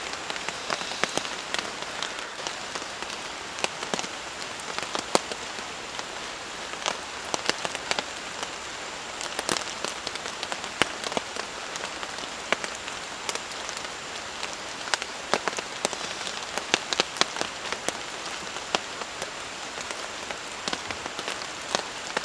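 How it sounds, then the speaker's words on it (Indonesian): Heavy rain at night pours onto a camp in a forest, a steady close patter with sharp individual drops hitting a surface, moderately loud and continuous with no voices. "ini hujannya nggak berhenti-berhenti ya, dari sore sampai tengah malam seperti ini masih aja hujan"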